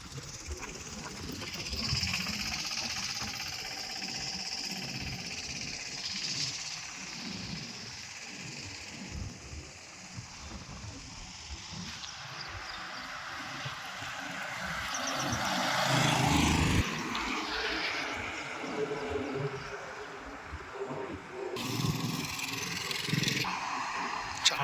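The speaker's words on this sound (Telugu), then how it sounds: "చాలా బిజీ రోడ్ సార్. సెకండ్కి ఒక వెహికల్ వెళ్తుంది సార్." Steady stream of vehicles passing on a busy commercial highway beside a roadside plot, a continuous broadband roar that swells as nearer vehicles rush by around the middle and again near the end.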